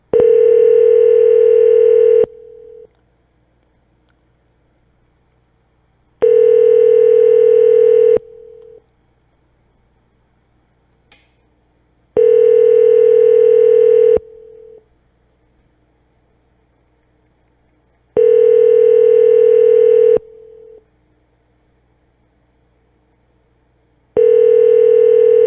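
Repeated telephone tones on a Google Voice call: a steady, loud tone sounds for about two seconds at a time, five times, each followed by roughly four seconds of near silence.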